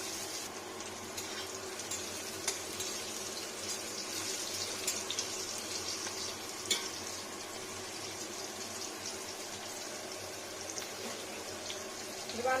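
Vegetables fry in a pan for sukto made without onion or garlic, giving a steady, soft sizzle like running water, with a few faint clinks over the continuous hiss.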